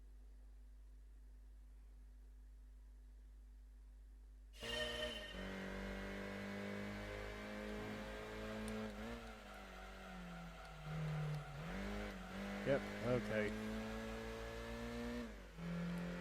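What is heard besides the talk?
car engine racing in video game Gran Turismo 2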